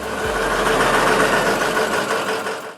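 A Navistar VT365 diesel truck engine runs steadily, a loud, dense mechanical clatter with rough rhythmic knocking over a low rumble, heard up close without talk.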